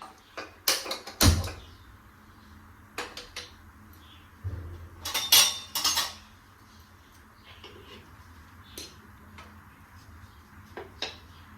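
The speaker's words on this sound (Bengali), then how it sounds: "ওভেনে প্যানটা বসিয়ে নিয়েছি" A pan is set down on a gas stove in a home kitchen, giving a few sharp metallic clanks and knocks spread among quieter clatter, close and fairly loud, with no talking.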